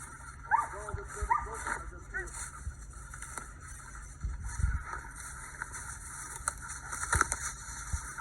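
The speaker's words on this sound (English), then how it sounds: "they use hounds because obviously they have a loud, distinctive bark that you can track" Hounds bay and bark in short bursts while trailing a deer, fairly distant across open ground, with a steady background hiss and low rumble, and a few louder yelps near the start.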